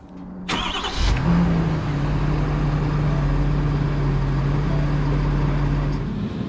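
A 2020 Ford F-450 XLT Super Duty dually pickup starts up and then holds a loud, steady engine drone with a low hum from up close, and no one speaks.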